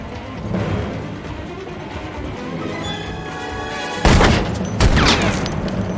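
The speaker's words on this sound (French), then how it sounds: "Des coups de feu ont été échangés." Gunfire is exchanged during a movie shootout atop an old Broadway building, heard as a few loud, booming bursts over a tense background, the last two blasts close together near the end.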